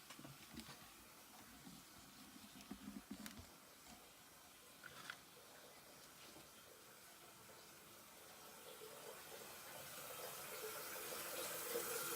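Warm tap water runs steadily from a faucet into a sink to rinse corroded parts of a broken original Game Boy DMG, a soft hiss that grows gradually louder, with a few brief clatters near the start.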